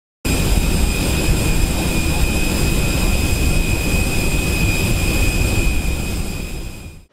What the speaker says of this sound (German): steigen jetzt in das Flugzeug